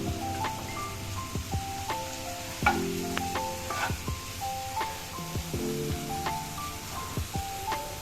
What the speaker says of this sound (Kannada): ನೀವು ಇದನ್ನು ಎಲ್ಲ ಮೀಡಿಯಮ್ ಫ್ಲೇಮಲ್ಲೇ ಹಿಡ್ಕೊಂಡು ಹುರ್ಕೋಬೇಕಾಗತ್ತೆ.